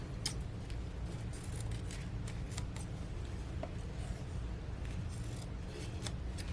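Scissors snip and trim a knotted ribbon on a craft project, giving a steady run of small, light cuts over a low background hum, close and fairly quiet with no talking.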